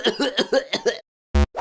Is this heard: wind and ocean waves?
no